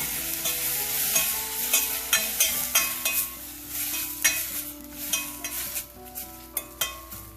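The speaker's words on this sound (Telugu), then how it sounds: "ఇదంతా బాగా కలుపుతుంది." Rasam with mint and coriander being stirred in a pan, a steady sizzle under repeated scraping and clinking strokes of the spoon against the metal, close and fairly loud throughout.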